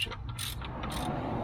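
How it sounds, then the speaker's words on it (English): A hand ratchet clicks while tightening on a truck's front axle knuckle, a few quick close pawl clicks in two short bursts over a low background hum. "which is why I'm doing this with a ratchet and not my electric ratchet"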